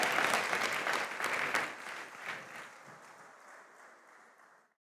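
An audience claps for a competing school team at an inter-school contest in Tamale. The applause starts full and close, then gradually thins and fades away over several seconds until it stops.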